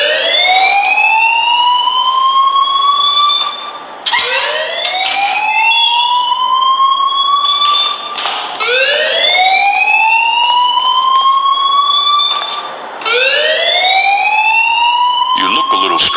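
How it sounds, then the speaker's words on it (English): A video-game fire alarm blares loudly in repeated rising electronic whoops, each sweep lasting a few seconds and cycling continuously without pause. "please turn off that alarm since that's your job"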